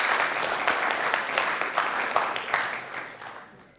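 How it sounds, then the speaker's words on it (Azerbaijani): Studio audience at a televised quiz show applauding a departing contestant, a steady wash of clapping that fades gradually toward the end. "Alqışlarla Aygül xanımı yola salırıq."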